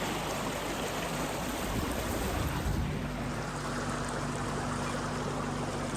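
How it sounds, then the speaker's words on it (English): Water laps and washes steadily around a quiet inflatable boat running on an electric motor, a continuous soft rushing splash with no voices. "Electric motor, inflatable boat, it's quiet, just hear the water, that's it."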